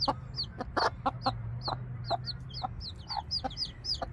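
A mother hen and her baby chicks cluck in a backyard coop, with repeated short clucks and high peeps scattered steadily throughout, close by and fairly loud over a low hum.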